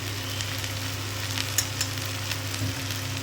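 Red chili powder and spices fry in a pan on a medium flame with a soft, steady sizzle and a few faint stirring clicks, with a low hum underneath and no talking.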